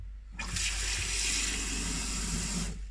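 Water pours steadily into a blender jar over flaxseeds for a smoothie, a loud, close, continuous gushing rush that starts abruptly and stops cleanly after about two seconds.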